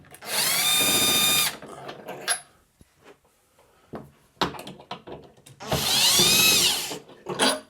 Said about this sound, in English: Then you can take the screws out that hold it onto the wall.